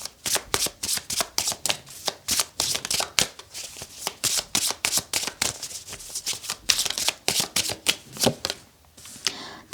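Tarot cards are shuffled close up in a steady rapid riffle of papery flicks and slaps lasting almost ten seconds.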